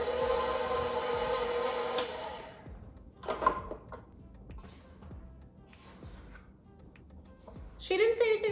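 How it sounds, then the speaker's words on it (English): A stand mixer with a dough hook runs on low, mixing challah dough, with a steady whirring motor hum for about two seconds before it stops. Quieter clatter and a voice follow. "Now I mix this on low for 30 seconds to combine."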